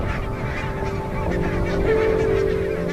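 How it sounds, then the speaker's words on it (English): Barnacle geese at a Scottish river in winter, honking steadily in a dense chorus of overlapping calls that swells slightly louder toward the end, with no voices. "Every winter, barnacled geese arrive right on cue at the same Scottish river."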